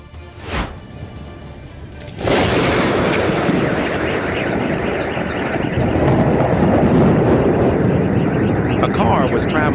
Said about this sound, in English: A brilliant flash of light accompanied by a loud explosion startled everyone who witnessed it.